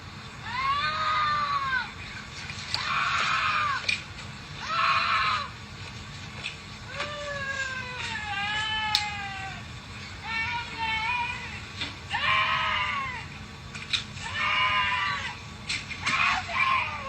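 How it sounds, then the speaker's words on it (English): A woman screams and wails out on a street, loud repeated cries with quavering, falling pitch rising and breaking in bursts over steady background noise. "there was a woman walking down the street, calmly just screaming"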